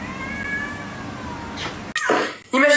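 A cat lets out a loud, drawn-out meow at close range, following a stretch of quieter indoor background noise.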